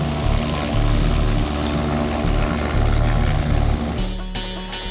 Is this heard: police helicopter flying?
yes